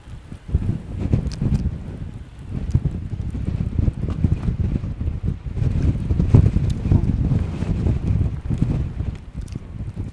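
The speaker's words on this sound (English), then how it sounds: "And yes, it is very, very windy." Strong wind buffets the microphone on a coastal cliff trail, a loud, continuous rumbling roar with gusty surges and no talking.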